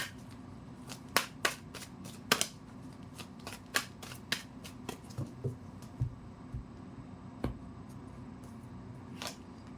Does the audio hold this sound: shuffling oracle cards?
yes